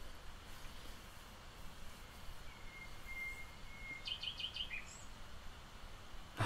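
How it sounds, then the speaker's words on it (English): Birds sing and chirp in a calm nature recording, a few short whistled calls and quick trills standing out faintly over a soft steady background hiss. "We're listening to birds right now because we can't have music, and it's calming."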